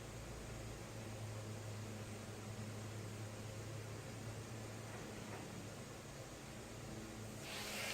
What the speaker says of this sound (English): Now the washing machine's going off in the background.